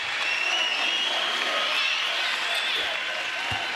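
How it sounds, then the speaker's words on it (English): A college basketball crowd applauding players at an NIT game between Oregon and Utah State, a dense, continuous wash of clapping and cheering filling the arena, with a few faint thuds underneath. "letting your players go out to the applause and the appreciation of the crowd"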